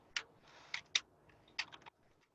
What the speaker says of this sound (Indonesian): Ah, harus ngetik.